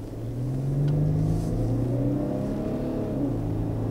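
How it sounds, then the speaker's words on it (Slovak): An Infiniti FX30dS diesel engine drones steadily and revs up, its low rumbling pitch climbing smoothly as it accelerates. "že motor vydáva naozaj neskutočne dobrý zvuk,"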